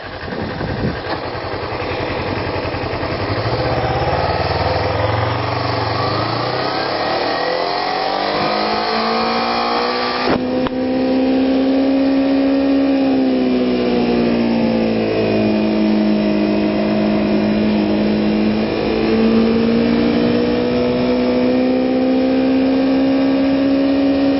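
A 250 motorcycle engine drones continuously while riding on Mulholland Drive, its pitch rising and falling with throttle changes, loud and close with wind rush throughout.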